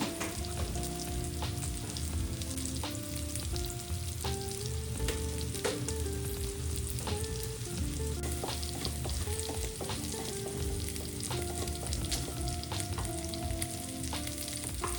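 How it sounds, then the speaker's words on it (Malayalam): Chilli, turmeric and coriander powders stirred into sizzling masala in a pan for butter chicken, a steady close frying hiss with frequent light scrapes and clinks of the spoon. "ഇതെല്ലാം ഇട്ട് നന്നായി ഇളക്കി യോജിപ്പിക്കണം"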